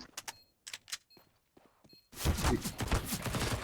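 Rapid SMG gunfire in a competitive video game match, bursts of shots starting sparse and then becoming a loud, dense barrage of fire over the second half.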